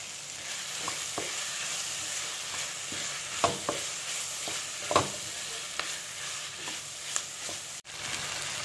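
Curry leaves frying in oil in a pan with sautéed tomatoes for a potato curry, a continuous soft sizzle broken by scattered crackles and stirring scrapes, with one sharp knock near the end.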